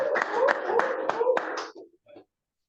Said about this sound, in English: A round of applause for the editor in the building